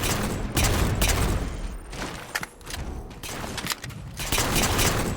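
Pistol fire in Halo MCC Infection gameplay comes as a dense run of sharp, loud shots and booms, several overlapping in quick succession with only a brief lull near the middle.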